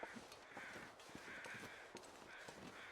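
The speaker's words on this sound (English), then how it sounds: "And I can hear the birds." Crows caw in the video game The Long Dark, a few harsh, distant calls repeating at intervals over a steady, faint wind-like ambience.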